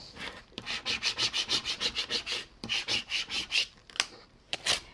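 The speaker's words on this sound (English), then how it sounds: "Let's use my scraper." A scraper rubs vinyl down onto a wooden box in quick, even back-and-forth strokes, about a dozen rasping passes, a pause, then more strokes and a few sharp scuffs, close and clear.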